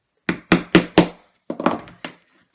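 Several sharp metallic hammer blows setting a washer onto a post, four in quick succession, then a short pause and a few more strikes, close and fairly loud.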